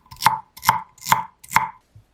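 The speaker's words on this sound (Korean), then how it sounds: "샐러리는 반으로 가르고 작은 크기로 잘라 팬에 넣을게요" Celery, halved and cut into small pieces, chopped with a knife on a board: four crisp, evenly spaced chops with a short tap at the end, close and clear, no voices.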